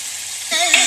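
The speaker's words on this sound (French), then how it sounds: "Faire fondre le beurre dans une petite casserole" Butter melting in a small saucepan gives off a soft, steady hiss that swells into a brighter sizzle partway through, close and fairly loud.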